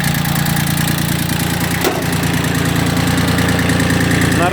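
ISEKI TX1410 Japanese mini tractor idling at close range: a steady, loud diesel chug with even low knocking pulses and broadband rattle, continuous with no voices.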